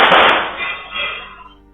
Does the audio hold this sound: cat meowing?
no